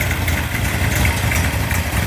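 A Mopar 360 crate engine with an aggressive 248-duration camshaft idles steadily around 900 RPM, a loud, close, continuous low rumble with a slightly lumpy pulse that holds throughout the short stretch.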